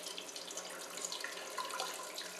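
Boiled water from a kettle poured into a pan or tray for steaming eggs, a short, close, steady splashing trickle at low volume with no talking.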